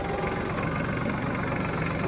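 A tractor engine idles steadily at low RPM, a continuous low, even rumble close by with no voices.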